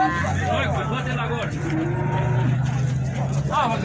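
Cows mooing at a busy cattle fair in Buíque, Pernambuco, with several long, low, close calls over a background of crowd chatter and passing traffic.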